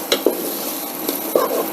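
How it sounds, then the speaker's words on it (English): Black beans being stirred and sautéed in a little olive oil for Cuban-style black beans, a low steady sizzle with a few distinct spoon scrapes and taps against the pot. "I'm going to turn our heat up, and we will get those coated in our little bit of olive oil"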